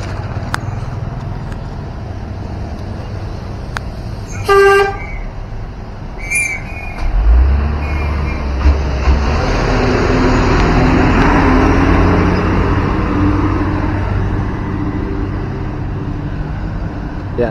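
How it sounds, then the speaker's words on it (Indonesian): Road traffic passes at a toll road entrance gate with a constant low rumble of engines and a louder vehicle swelling past midway. Brief whistle-like chirps sound early on. "lumayan cukup rame ya kendaraan di sini, di depan gerbang masuk ini"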